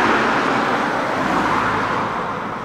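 A car drives along a busy country road in the Hope Valley in the early morning, its broad steady rumble filling the whole stretch and easing off slightly toward the end.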